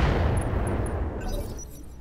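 Weapon fire from a mech shooting incendiary ammo in Roguetech, a BattleTech mod, a heavy booming blast that fades into a low rumble, with a few faint high beeps from the game interface.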